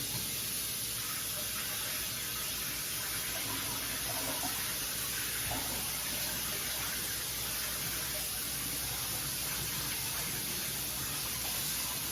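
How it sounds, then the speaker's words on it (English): Running tap water rinses cauliflower in a colander, a steady broadband hiss and splash that holds evenly for about twelve seconds, close and moderately quiet, with no talk. "What's cool about the colander is you could rinse it out, kind of, right in here."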